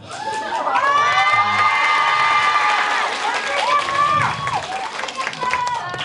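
Recorded cheering and applause from a girls' high school reading event, loud crowd shouts and high excited voices over scattered clapping, close and sustained before tapering.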